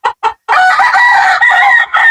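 An Allen cross with yellow-legged hatch rooster gives two short clucks, then a loud, close crow that carries through to the end.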